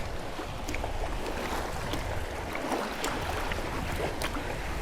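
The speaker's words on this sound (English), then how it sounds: "A little bit of boat wake." Continuous boat wake waves slosh steadily with faint splashes on the Sea of Cortez, a dense close-up wash with no voices.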